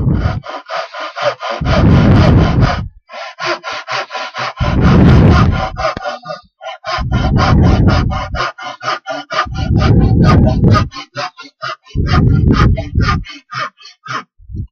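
Hand saw cutting through wood in long rhythmic rasping strokes, close up, with short pauses between bursts of sawing.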